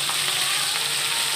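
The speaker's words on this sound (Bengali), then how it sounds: "আমার এবার মাছটা ভালো করে ভাজা হয়ে গেছে" Fish sizzles steadily in hot oil in a pan, a close, continuous crackling hiss with no voices over it.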